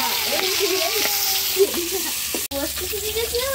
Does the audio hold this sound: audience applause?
no